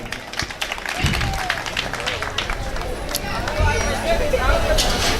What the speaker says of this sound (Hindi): मैं चाहता हूं कि रहीम दादाजी साहब के लिए एक बार जोरदार तालियां बजाएं आप लोग।